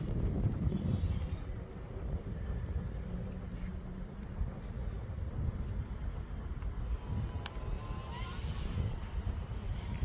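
Strong wind buffets a microphone outdoors while a tri-blade drone is flown in high wind, a steady broadband roar with gusty swells, heard alone.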